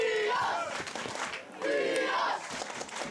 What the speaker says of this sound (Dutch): De volgende corner hier en weer gejuich vanaf de tribune.